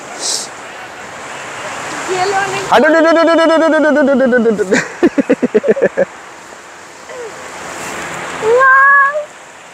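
Ocean surf at Cox's Bazar sea beach washes in a broad, continuous roar beneath loud voices speaking and calling out nearby.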